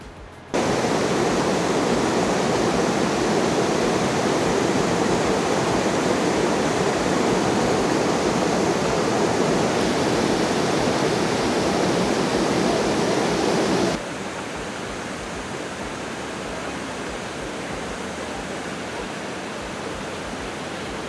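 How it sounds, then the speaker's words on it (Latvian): Waterfalls at Plitvice Lakes National Park in Croatia roar with a loud, steady rush of falling water, dropping to a slightly quieter rush partway through, with no talk. "Tik daudz mazi un lielāki ūdenskritumi, kurš labāks?"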